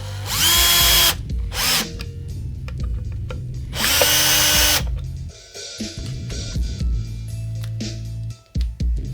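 Power drill driving short screws into the tremolo claw of an Encore electric guitar, several loud whirring bursts of about a second each separated by pauses with quiet handling knocks, close by and without talk.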